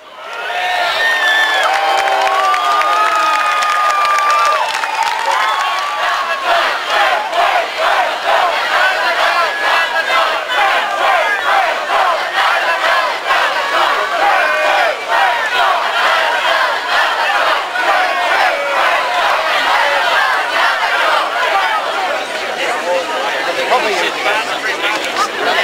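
A large crowd at a Section 59 demonstration in New Zealand cheers and shouts loudly and continuously, a sustained roar of many voices with rhythmic chanting pulses throughout.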